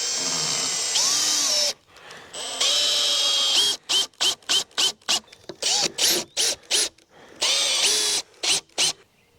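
A power drill drives screws down into stained pallet wood boards for a wood shed, in a series of short high-pitched whirring bursts, some long and others quick and rhythmic, heard close and loud with pauses between.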